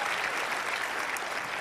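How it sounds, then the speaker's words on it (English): Audience applause at a leadership event, a brief, even burst of many hands clapping in a hall, sustained and fairly loud with no talking. "Let's give him a round of applause,"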